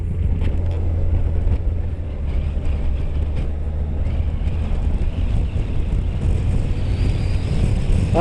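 A motorbike rides along on a Sunday road and picks up speed, a continuous low engine drone mixed with heavy wind rush against the microphone, loud and steady throughout.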